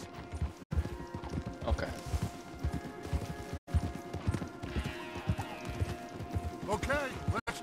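Horses galloping in Red Dead Redemption 2, with steady, rhythmic clip-clop hoofbeats running close and loud throughout while characters talk over them.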